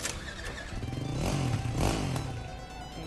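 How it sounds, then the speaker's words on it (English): A motorcycle engine revs in the Trials Fusion video game, swelling to a loud, rough peak midway and then easing back, with some clattering mixed in and no one speaking. "You have to use this bike."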